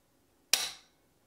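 A BixnAndy rifle trigger is pulled for a dry-fire, giving a single sharp metallic click up close that decays quickly in a quiet room.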